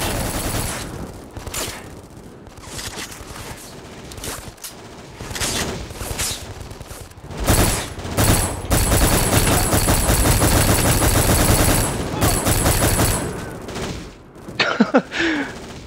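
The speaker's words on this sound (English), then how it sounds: "I accidentally turned into burst fire mode in panic." Rapid burst-fire gunfire in the war shooter game Black, on a bridge level, with repeated loud volleys of automatic shots and booming impacts building to a dense sustained barrage, no talking.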